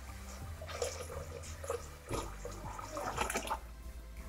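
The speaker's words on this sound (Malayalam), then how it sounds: "ഇനി നമ്മുടെ കഞ്ഞി ആകാൻ ആവശ്യമായിട്ടുള്ള വെള്ളം ഒഴിച്ചു കൊടുക്കാം." Water, about eight cups, is poured into a pressure cooker of rice for gruel, a close splashing and gurgling flow that swells and surges unevenly, with no talking.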